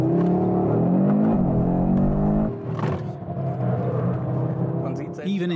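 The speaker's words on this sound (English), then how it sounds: "Let's look at the other mode, Torque Rear mode, also known as Drift mode." A 2022 Audi RS3 with the RS Torque Splitter in Torque Rear drift mode revs and accelerates, a loud engine drone rising in pitch before dropping into a lower rumble as the car drives on.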